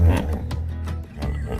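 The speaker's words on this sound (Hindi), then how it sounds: "और आइए अब हम दरियाई घोड़े की आवाज को सुनते हैं।" A hippopotamus gives a deep, grunting call with several rumbling bursts, close and fairly loud, with no talking.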